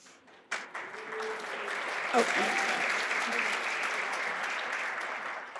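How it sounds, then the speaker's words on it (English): A crowd at an anniversary celebration applauds after a past member from 1966 is named, a soft burst that quickly settles into a steady, fairly distant wash of clapping, with a voice briefly heard over it. "please hold your applause"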